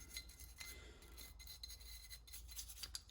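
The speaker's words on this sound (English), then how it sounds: "Just give everything in there a good scrubbing." Ruger 57 pistol parts being scrubbed with a brush during cleaning with a Ballistol and alcohol mix, a quiet continuous rasping and rubbing close by, with no talking.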